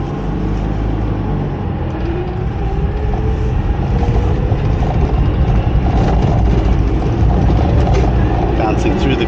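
The air-cooled 602 cc two-cylinder opposed engine of a Citroën 2CV drones steadily as the car pulls away. The low engine rumble is loud and constant, with a rough, buzzing texture and no breaks.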